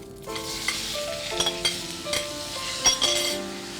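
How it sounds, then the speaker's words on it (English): Cauliflower florets with turmeric sauté in a pan over a medium flame, a steady close sizzle broken by repeated scraping stirs and light clinks of a utensil against the pan. "we'll saute this on a medium flame for a few seconds"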